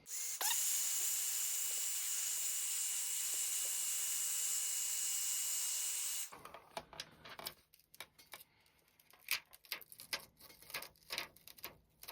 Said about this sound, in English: I got my beautiful little hair dryer here, and I'm gonna put it on the low setting and kind of heat this adhesive